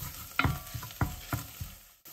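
Dry chana masala spices are stirred in a pan over low to medium flame: about six quick scraping strokes with a soft sizzle, close and rhythmic, then a sudden stop.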